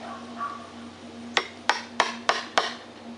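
Hammer striking a chisel to knock a chunk out of wood while building a saw horse: five sharp, close knocks in a fairly even rhythm following a quiet lead-in.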